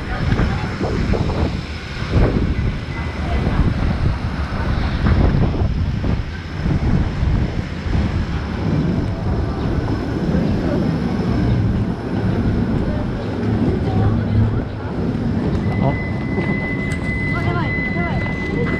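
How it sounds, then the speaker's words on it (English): Steady wind gusts buffet the microphone outdoors on a trip in Japan, a broad continuous rush with brief louder surges, heard alongside people talking. "It's a little windy."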